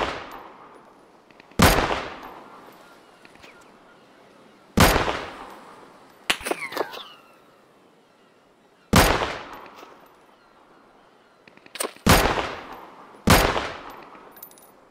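Gunshots in the survival shooter Deadside ring out as about seven sharp, loud, separate reports spaced a second or two apart, each decaying with a long echo, with no one talking over them.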